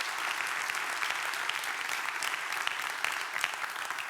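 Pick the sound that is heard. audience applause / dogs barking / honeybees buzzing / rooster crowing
audience applause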